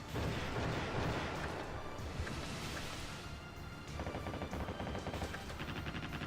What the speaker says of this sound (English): Firing 61cm guns like they're machine guns.